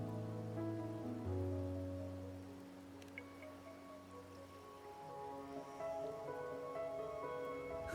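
Soft rain patters through a night scene in the Wuthering Waves video game, faint beneath sustained music tones.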